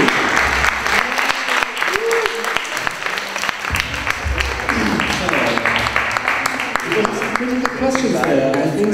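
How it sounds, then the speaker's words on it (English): Audience applause after an improvisation session at a city council event, steady clapping throughout with voices and crowd chatter mixed in over it. "So some applause, please, for the community."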